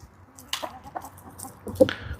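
Chickens on a farm with roosters and hens about, giving several short clucks and squawks nearby over a quiet background.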